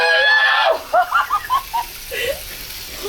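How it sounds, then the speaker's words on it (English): A woman gives a short high scream of surprise as the sink tap in a tiny Carnival Magic cruise cabin comes on, then breaks into a string of quick breathy laughs, close and loud. "I screamed"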